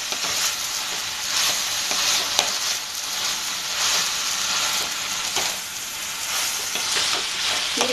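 A banana flower mixture sautés in oil in a pan, giving a loud, continuous close-up sizzle broken by frequent stirring scrapes, with no talking.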